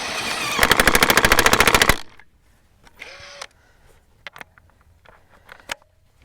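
A DeWalt DCF964 3/4 inch cordless impact wrench hammers in a rapid, loud burst of rattling impacts for about a second and a half, followed by quieter clicks and handling knocks.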